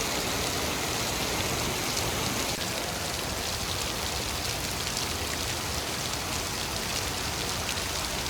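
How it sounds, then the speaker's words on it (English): Steady rain falling in winter woods near a waterfall ravine, a dense, even hiss of drops on leaves and ground, loud and continuous with no talking. "Starting to rain a little harder now."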